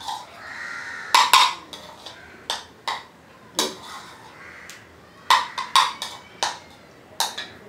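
A spoon clinks and scrapes against a bowl while mixing paneer and cauliflower paratha stuffing, with irregular bright metallic taps in small clusters and short quiet gaps between them.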